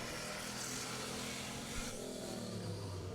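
A race car on a qualifying lap at Riverhead Raceway roars steadily at a distance, its engine note shifting as it passes through the turns, faint and continuous.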